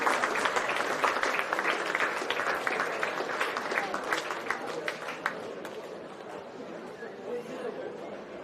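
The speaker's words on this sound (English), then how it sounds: "The crowd will give him a big ovation." A rugby crowd at a Fijian U20 versus Australian Country match applauds as an injured player gets back to his feet. Dense, sustained clapping and crowd chatter fill the stadium, then ease off slightly toward the end.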